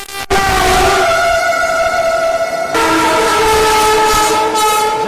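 A Vande Bharat Express sounds a loud, sustained multi-tone horn while overtaking near Tundla, the blare holding for several seconds with a pitch shift midway over rumbling rail noise.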